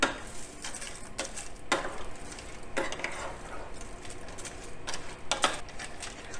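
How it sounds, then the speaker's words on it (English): A spoon stirring pasta, broth mix and water in a cooking pot, giving a series of irregular scraping knocks and clinks against the pot, close and fairly quiet. "And then I'm gonna give this all a good stir."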